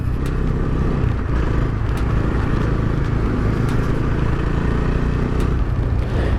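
A Bajaj Dominar 250 motorcycle ridden over bad roads, a loud continuous engine and wind roar with road rumble and occasional rattles, steady throughout with no talk.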